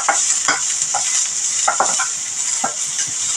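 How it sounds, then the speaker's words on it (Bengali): Sliced onions fry in hot oil for egg chowmein, a loud continuous sizzle broken by repeated scraping stirs of a spatula against the pan, alone without talk. "আমি হালকা পেঁয়াজগুলো একটু ভেজে নিই।"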